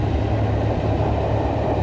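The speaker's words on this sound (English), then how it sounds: "Train goes through." A train rumbles past a level crossing during a 1988 Tour of Britain cycle race, a loud, steady low-frequency roar holding unbroken from start to end.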